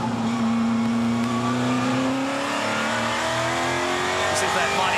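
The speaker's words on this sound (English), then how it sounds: "This is that mighty V8 rev hard down pit straight here at Barbagallo Raceway" A V8 historic touring car revs hard down the pit straight at Barbagallo Raceway, its rising engine note loud and sustained over steady crowd and commentary noise, with a commentator talking over it.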